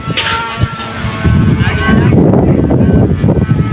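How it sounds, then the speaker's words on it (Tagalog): Strong amihan wind gusting hard around a kite-flying spot, a loud, steady broadband roar buffeting the microphone throughout, with people talking over it. "Makusugon lakas ng hangin."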